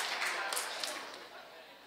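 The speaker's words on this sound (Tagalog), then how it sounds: "Salamat sa inyong palakpak." A church congregation applauding at a sermon, a dense patter of clapping that slowly fades with a voice speaking over it.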